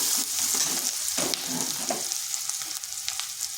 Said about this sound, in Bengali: পেঁয়াজটাকে হালকা একটু ভেজে নিলাম